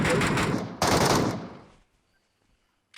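Rapid automatic gunfire in PUBG Mobile on the new Erangel map as the player is shot, two loud close bursts in the first second and a half before fading to near silence.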